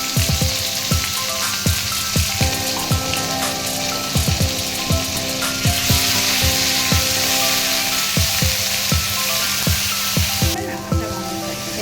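Cumin, bay leaves, whole garam masala and raw onion sizzle loudly in hot oil for a prawn and pointed gourd dolma, a dense continuous crackle punctuated by sharp popping spatters, close up with no talking.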